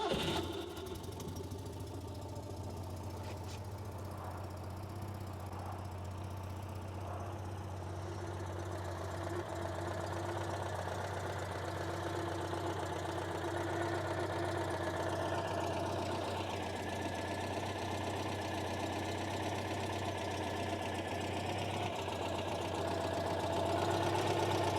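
A 1976 Citroen 2CV6 two-cylinder engine runs at a steady idle, its low, even chug holding close and continuous throughout with slight shifts in pitch and no talk.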